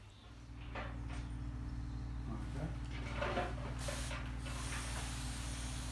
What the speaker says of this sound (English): now it's just spraying the root ball so it doesn't dry out